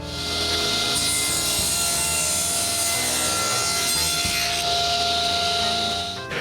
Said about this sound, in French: Je coupe donc 2 petits morceaux de bois que je colle à l'intérieur du meuble.